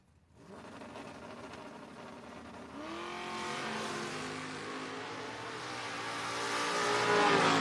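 A 1979 Camaro and a 2002 Camaro at a drag race launch from the line, their engines roaring and rising in pitch as they accelerate away, loud and steadily building with crowd-scale ambience behind.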